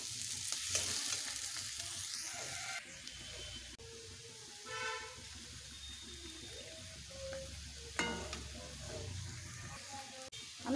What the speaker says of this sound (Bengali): আমি এক পাশে লুচি ভাজছি আর এক পাশে সবজি রান্না করছি।